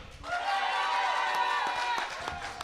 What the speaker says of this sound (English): I want to hear you guys cheer and yell and roar and clap as loud as you can